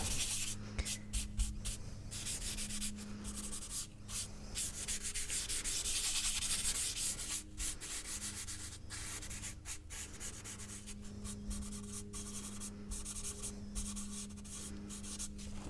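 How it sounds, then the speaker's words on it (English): Soft pastel is blended on paper in small strokes, a close, quiet scratchy rubbing repeated in short bursts, with a faint steady hum underneath and no talk. "Now when I blend, I'm not pushing it out anymore, I'm just kind of smoothing the edge that's there."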